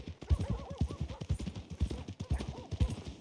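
Horse hooves clop in a quick, rhythmic patter in a video game, the beats close and steady throughout.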